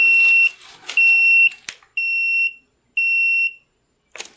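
A timer alarm beeping in a workshop during resin clock making: four loud, sharp electronic beeps of about half a second each, evenly spaced about a second apart, with a clatter between them and a brief noise at the end.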